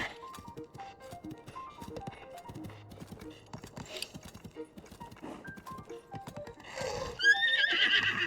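A horse in the video game Zelda: Tears of the Kingdom whinnies while hooves clip-clop in a steady rhythm, ending in a louder, rising neigh.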